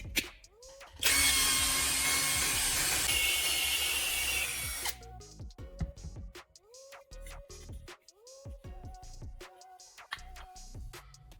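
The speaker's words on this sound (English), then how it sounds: "Using a drill. A hole is made right in the center of the lid." A power drill whines loudly for a few seconds as it bores a hole through the center of a lid, followed by scattered clicks and handling noises.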